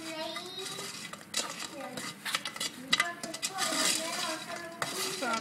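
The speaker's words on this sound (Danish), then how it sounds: "Så rører jeg lige rundt indtil sukkeret det smeltede her, det lige sætter sig ordentligt fast" Burnt sugared almonds being stirred in a pot with a utensil, giving scraping, clinking strokes against the metal at an uneven pace, with faint sizzling beneath and some quiet talk.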